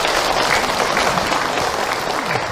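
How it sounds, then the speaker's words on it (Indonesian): A seated audience at a religious talk gives a warm round of applause for the preacher, loud and dense clapping that holds steady for a few seconds with no speech over it. "sekali lagi tepuk tangan Bu untuk Ahilman."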